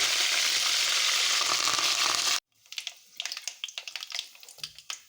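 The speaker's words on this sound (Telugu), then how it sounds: "20-30 దాకా వెల్లుల్లి రెబ్బలు వేసుకొని ఫ్రై చేసుకోవాలి" Garlic cloves frying in hot oil with dried red chillies and curry leaves while tempering for a bean pickle, a loud steady sizzle that stops abruptly, followed by scattered crackling stirs and pops.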